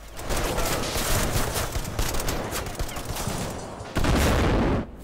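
Dense crackling gunfire and explosive Panzerschreck anti-tank rounds fill a World War II strategy game battle, a loud, nearly continuous barrage with a heavier burst near the end before cutting off.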